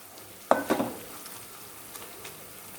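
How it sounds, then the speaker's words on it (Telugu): Onions fry in a pan with cloves, cardamom and cinnamon pieces, one sharp clatter of spices or a utensil hitting the pan followed by a soft, steady sizzle. "అలా ఉల్లిపాయలు వేగుతున్నప్పుడు చూస్తున్నారా, 2 లవంగాలు, 2 యాలకులు, చెక్క చిన్న ముక్కలు అనమాట ఇలా వేసుకోండి."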